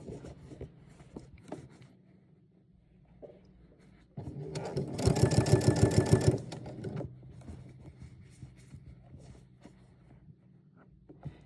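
A sewing machine stitches binding around the curve of a quilted coat in a quiet room, with a short stretch of rapid, even needle chatter that rises and then stops, set between softer handling noises and fabric rustle.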